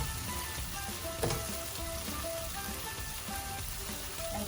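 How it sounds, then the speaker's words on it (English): Lemongrass sizzles steadily in a hot frying pan, a dense, even crackle of frying that holds at a moderate level for several seconds, with one brief louder pop near the start. "So now I'm going to add the lemongrass."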